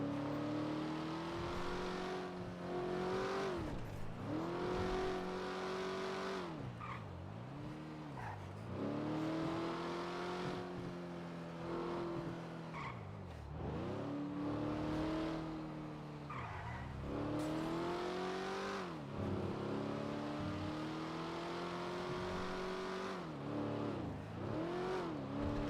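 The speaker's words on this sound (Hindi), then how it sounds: "गाड़ी का ये आवाज अच्छा है।" Cars in GTA 5 roleplay rev and accelerate through repeated gear-like pitch climbs and drops, with intermittent tire squeal, loud and continuous for about twenty-five seconds without talk.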